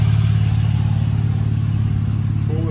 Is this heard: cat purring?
no